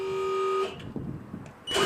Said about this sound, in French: Vous faites un essai du bon fonctionnement de l'avertisseur et de l'éclairage de signalisation s'il existe.